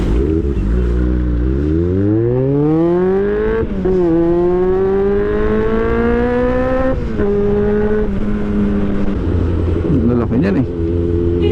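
A Honda CB400 Super Four motorcycle engine screams through repeated revs, its pitch climbing and dropping in long loud sweeps, close to the microphone, with a brief low idle near the end.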